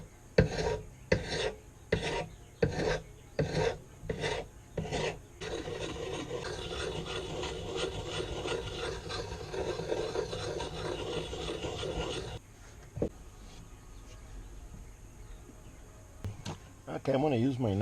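A kitchen knife drawn repeatedly across a sharpener, about eight separate rasping strokes, then a long continuous scraping stretch, then a quieter pause and a few final strokes, all close and fairly loud.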